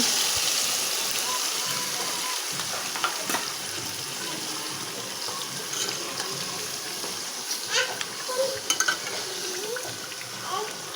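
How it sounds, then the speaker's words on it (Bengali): Onion, garam masala and oil fry in a pan with a faint, continuous sizzle, muffled amid broad background noise and scattered light clicks. "আর এখানে যে পেঁয়াজ, গরম মশলা আর হলো তেল, এইটা আমি লাল করে নিচ্ছি।"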